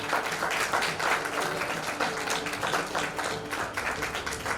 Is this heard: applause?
yes